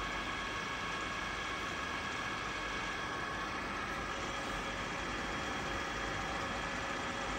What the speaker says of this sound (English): The spindle speed has been increased to 975 RPM.